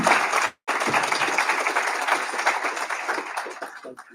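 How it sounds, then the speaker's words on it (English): An audience at a HOPE for Prisoners graduation ceremony applauds, a dense, fairly close wash of many hands clapping that drops out briefly near the start and then carries on steadily, thinning toward the end. "Can we give the Assistant Sheriff another round of applause?"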